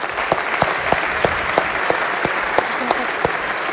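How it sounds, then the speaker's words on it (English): Audience applause for a speaker introduced at a designer panel event, a steady patter of clapping from a crowd with a few sharper individual claps standing out, fairly close and continuous throughout. "Give her a round of applause,"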